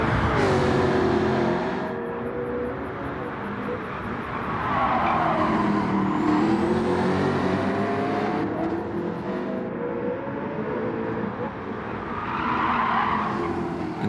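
Race cars in the Gran Turismo video game roar at speed as a Jaguar brakes and slides, with loud sustained engine drone, long tire squeals and shifting revs, dense and continuous throughout.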